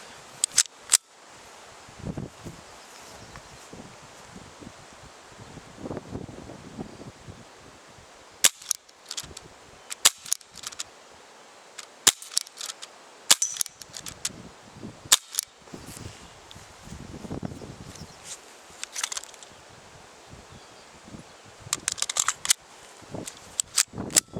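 A new SKIF A 3000 Anics CO2 4.5 mm air pistol firing flat-nosed pellets: a string of sharp, close cracks at irregular intervals over about twenty seconds, with quieter handling clicks between shots.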